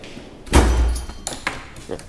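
A massive, smooth-running Harbor Freight Icon toolbox drawer slides shut with a solid close-range thud, followed by a few lighter metallic knocks.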